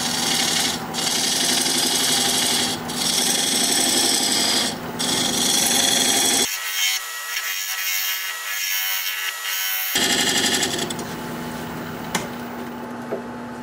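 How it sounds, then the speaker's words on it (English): A steady rasping scrape of a diamond point tool squaring the sides of a tenon on spinning wood, continuous with brief pauses, then a quieter stretch before the cutting resumes. "Now I'm going to use this diamond point tool to square up the sides of the tenon."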